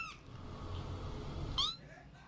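A cat meow sound effect played over a livestream, with two short harmonic meow-like calls, one at the very start and a louder one about a second and a half later, over a low background hum.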